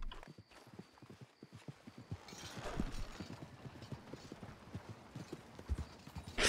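Hooves of a horse-drawn cart clip-clop steadily in the western game Red Dead, a quiet, even walking rhythm with faint background noise.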